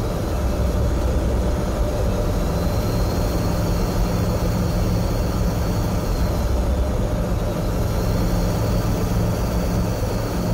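A turbocharged car engine, fitted with a Fatz Fabrication airbox and a 4-inch turbo upgrade, drones steadily and loudly under light throttle as it backs off, with no speech.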